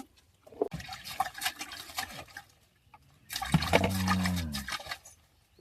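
Freshly harvested lesser yam tubers are swished and rinsed in water at a village garden, with soft splashing and trickling in two bursts and a louder pouring, gurgling stretch in the second half.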